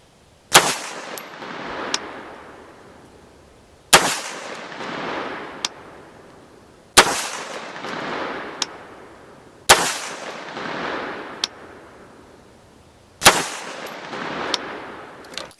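Single loud shots from a Global Ordnance Monolith 5.56 rifle fired outdoors, five sharp reports spaced a few seconds apart, each with a long rolling echo and fainter clinks between.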